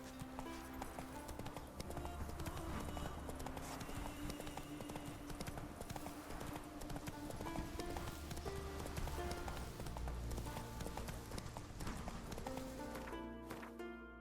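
Roach, a horse in The Witcher 3 video game, gallops with a continuous, fairly faint drum of hoofbeats under dense game music and ambience.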